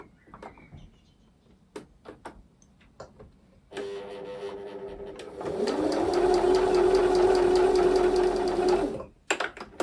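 A sewing machine stitching a fabric bag handle, first a few short clicks and bursts, then a loud steady run of rapid stitching for several seconds before stopping, with faint background noise from an open window.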